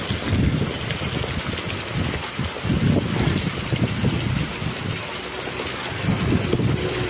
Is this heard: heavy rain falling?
yes